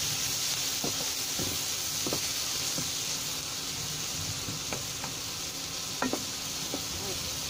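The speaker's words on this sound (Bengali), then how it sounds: "এখন এই তেলের মধ্যেই পেঁয়াজ কুচি দিয়ে দেব।" Chopped onion fries in oil left over from frying fish, a steady loud sizzle with occasional soft scrapes and taps of a spoon stirring.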